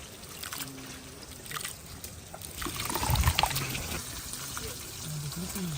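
Grated coconut is squeezed and kneaded with water by hand to press out coconut milk in a village kitchen, giving soft wet trickling and sloshing that runs continuously under outdoor ambience, with a thicker squelch midway.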